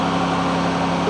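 New Holland 5620 CRDI tractor engine held at full throttle, a steady dense broadband roar with a low droning hum, constant and loud throughout, no voices.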